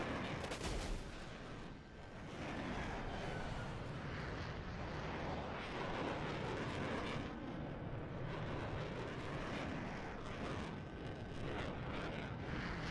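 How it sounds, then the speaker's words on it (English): An F-16A jet in the War Thunder video game, engine making a loud, dense, continuous roaring rumble mixed with rapid percussive gunfire-like crackle, dominating the whole stretch. "Swear that's the loudest plane in War Thunder."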